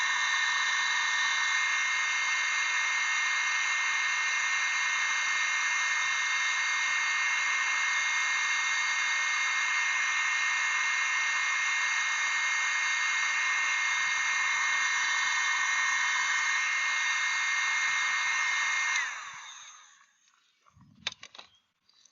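A heat gun shrinks heat-shrink tubing over a marine wire splice, a steady, fairly loud whining blow of air that holds evenly for about nineteen seconds, then cuts off, leaving a few faint clicks and handling sounds.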